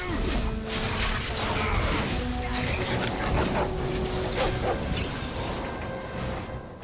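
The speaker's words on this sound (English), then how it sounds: "Damn that stupid dog." A dog barks amid dense, continuous battle noise in the fantasy role-playing video game Dragon Age: Origins, the barks partly buried under clashing combat effects throughout.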